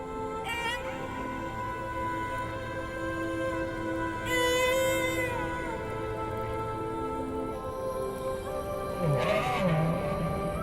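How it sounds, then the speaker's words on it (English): Whales sing continuously in layered tonal moans with rising and falling whistling sweeps that sometimes sound like a horse's whinny, against a dense constant undersea background. "Petty Point will memorize the song that he hears from other whales."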